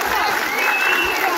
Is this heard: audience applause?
yes